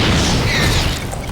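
A nuclear missile strike in StarCraft 2 detonates in one loud, sustained blast, a dense boom with a roaring rumble that holds for over a second.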